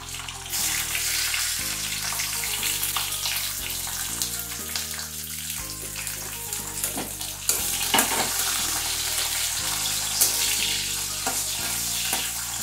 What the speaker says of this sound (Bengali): এবার দিয়ে দিচ্ছি শিম।